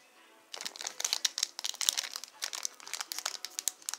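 After a quiet moment, close crinkling and tearing of a foil trading card pack wrapper crackles in quick bursts for several seconds.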